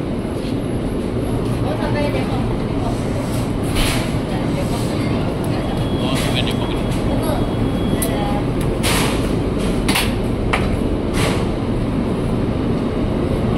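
A new INKA-built KRL commuter train pulls out of platform 10 at Jakarta Kota station, a broad, steady rumble of rolling wheels and motors with occasional squeals and hisses, loud and continuous throughout, with people talking over it.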